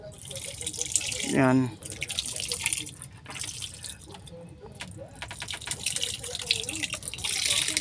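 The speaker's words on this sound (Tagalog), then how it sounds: "ibuhos natin mga ka-joker, ibuhos natin yung ating mga ricado" Liquid marinade of spices (ricado) is poured over a large batch of fish being prepared for daing, Filipino dried fish, giving a soft wet splashing and trickling under a man's speech.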